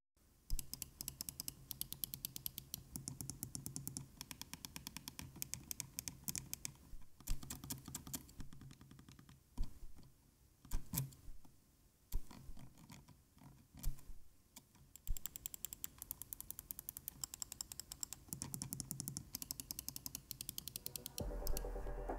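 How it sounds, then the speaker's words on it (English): Razer Basilisk V3 Pro gaming mouse switches clicking in a close, quiet sound test, long runs of rapid crisp clicks with a few brief pauses and slower isolated clicks between them, no talking. "And speaking of all the mouse switches, let's have a sound test."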